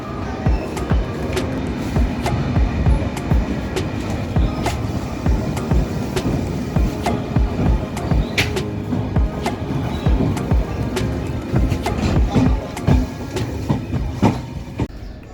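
A moving passenger train heading toward Varanasi Junction rattles along the rails with loud, continuous rumble and repeated clickety-clack beats from the wheels, heard from inside the coach.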